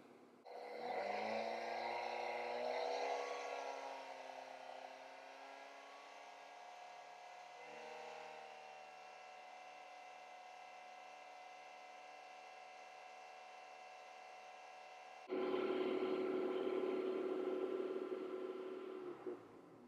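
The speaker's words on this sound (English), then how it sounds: "Increase the engine speed to 2000 RPM and hold it there for 20 seconds." A car engine idles then rises to a steady, held 2000 RPM with a constant hum, dropping briefly before a louder rev near the end.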